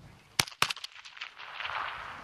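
Rifle shots at a 100-metre firing range: two loud, sharp reports in quick succession followed by fainter echoing cracks and a rising background rumble.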